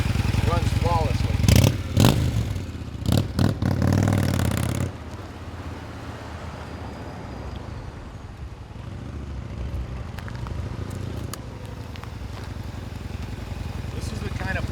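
A 2000 Honda VT1100C3 Shadow Aero motorcycle runs with a loud, uneven V-twin rumble and several revs, then settles to a lower idle under someone talking.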